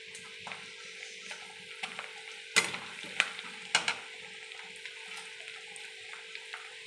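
Onions frying in hot oil with a couple of bay leaves added, a steady soft sizzle running throughout with a few sharper spatters and stirring clinks, close and alone with no talk.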